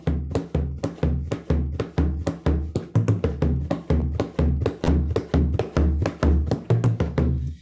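Bodhran frame drum beats out a slide, the single jig rhythm of Irish traditional music, with steady long-short pulses of deep booming strokes and lighter taps, close and alone.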